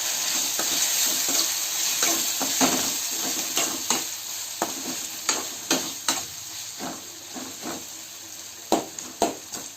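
A spoon stirs soaked moth bean curry with salt, turmeric, chili and spice powder, making a steady run of scraping strokes over a constant sizzling, watery background.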